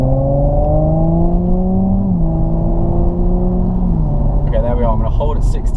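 A car accelerates to 60 mph ahead of a brake test, its engine tone climbing steadily with a gear change midway, loud and close as if recorded from inside the cabin, with brief clicks near the end.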